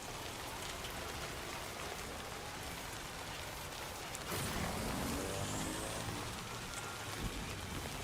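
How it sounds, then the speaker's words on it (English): Steady rain falls throughout in a video game, a dense wash of drops that grows heavier and closer partway through, with a brief louder patter near the end. "I did not know that this area actually got rain."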